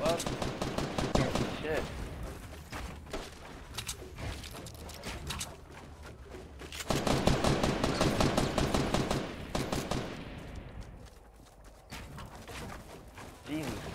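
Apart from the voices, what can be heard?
gunfire in the video game Fortnite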